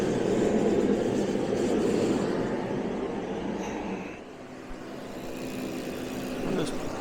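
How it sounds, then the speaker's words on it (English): A torpedo heater fills the clip with a loud, steady roaring blast of forced air and combustion, dipping briefly partway through, with faint clanks in the background. "They're called torpedo heaters."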